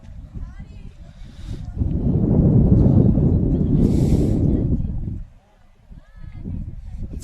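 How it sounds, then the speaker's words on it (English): Strong wind gusts buffet an outdoor microphone during a baseball game broadcast, a loud low rumble swelling for several seconds then dropping away before returning more softly. "That wind is really howling."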